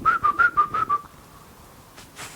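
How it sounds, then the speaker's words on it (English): A person whistling a short, close, clear phrase of about six rising and falling notes in a steady rhythm, then quiet, with faint noise near the end. "if I whistle"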